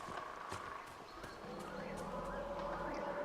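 Horse hooves clip-clopping in the Dragon Age Inquisition video game, a quick irregular series of hoof strikes at moderate distance over a low ambient bed, with a faint voice underneath.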